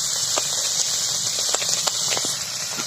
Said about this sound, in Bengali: তেলটা গরম হয়ে গেছে, তেল দিয়ে ভালো করে ভেজে নেব।